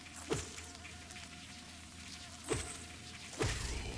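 Bees buzzing in a video game, a faint steady drone with a few brief louder buzzing swells as they fly past.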